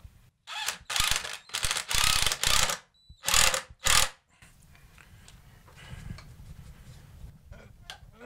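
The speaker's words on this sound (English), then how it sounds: "And now we should just be able to screw this in." Screwing a screw in to fix an internal window sill during a bathroom renovation. Several loud bursts of a powered driver whir in short runs, followed by softer ratcheting and clicking of the screw tightening, all close by.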